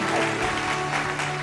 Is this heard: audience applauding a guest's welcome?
yes